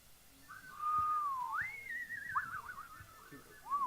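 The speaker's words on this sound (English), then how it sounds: "Can any of you whistle?" A single whistled tune at a live event at a Seattle drum school rises, falls and warbles, with a few soft knocks underneath.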